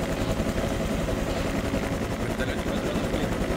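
Helicopter engine in the ArmA 2 video game with the ACE mod, a steady droning rotor and engine rumble that fills the whole stretch at moderate level.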